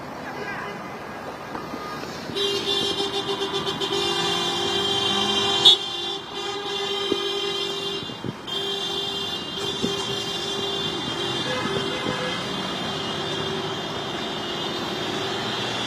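Car horns blare repeatedly at the start of a memorial motor rally commemorating the Crimean Tatar deportation, a dense overlapping chorus of sustained honks and engine noise from many vehicles at close range.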